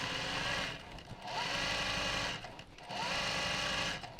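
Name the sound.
sewing machine top stitching with yellow thread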